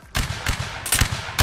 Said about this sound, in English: They fired a shot